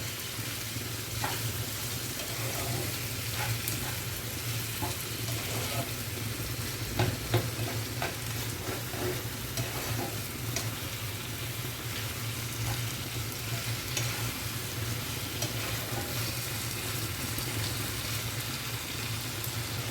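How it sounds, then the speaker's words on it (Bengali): Lote fish fries in spices in a pan, a continuous dense sizzle and crackle with soft scraping from steady stirring, heard up close with no voices. "নাড়াচাড়া করে মশলার সাথে ভালো করে আমি মিশিয়ে নিলাম"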